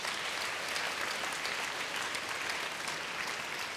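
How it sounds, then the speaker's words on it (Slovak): Steady, dense applause from an audience at a live Slovak gala broadcast fills the whole stretch at even loudness, with no voices over it. "No tak to si zaslúži potlesk určite."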